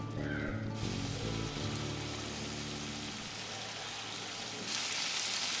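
Ginger paste and green chili paste frying in oil for a Bengali fish curry, a soft steady sizzle with faint crackle, low and close, without talk.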